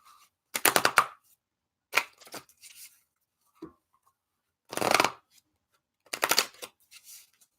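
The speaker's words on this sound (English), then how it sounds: "Let me shuffle." A deck of cards is riffled and shuffled in several quick bursts, crisp fluttering rattles separated by short pauses, with soft handling noises in between.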